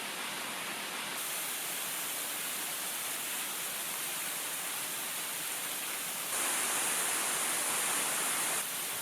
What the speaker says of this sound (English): Along the way, another waterfall stop.